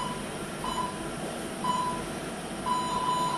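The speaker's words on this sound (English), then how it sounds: "Okay, we're going to start the timer." A workout timer sounds three electronic beeps as it starts, the first two short and the last one held longer, over a steady room hum.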